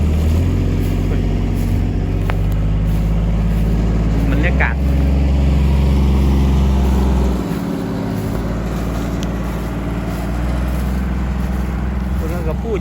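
Tractor engine on a farm in Israel, a loud steady low drone running throughout and easing off slightly partway, with a person talking over it.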